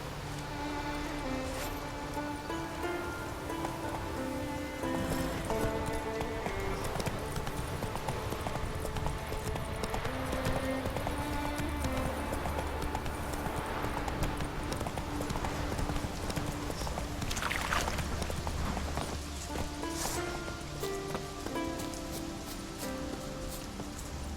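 Horse hooves clip-clop steadily and close in a video game (The Witcher-style open world), a continuous rhythmic trot over game music and ambient rustle.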